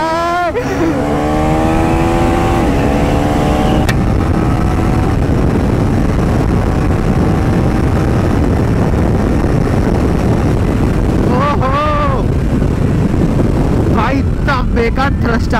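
A KTM Duke 390 motorcycle pulls away hard on launch control, its engine note rising through loud, sweeping revs and then easing off, with more rising bursts near the end and people talking over it.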